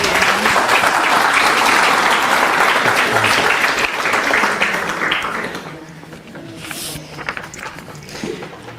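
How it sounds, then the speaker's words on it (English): Dense, sustained applause from an audience at a talk on bees, varroa mites and fipronil poisoning, steady and full for several seconds before thinning into scattered claps. "Give them a round of applause."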